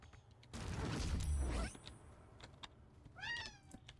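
A cat gives a short, faint meow near the end, following a louder burst of clattering and creaking mechanical noise indoors.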